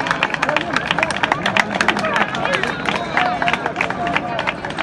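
A crowd claps and cheers loudly and continuously at a track during a performance event, with dense, rapid clapping and a background of voices and general crowd noise.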